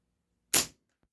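A single sharp crack from a Daisy Powerline 822 .22 air rifle firing a 12.65-grain Beeman Silver Bear pellet, close and brief, with a faint tick just after and silence around it.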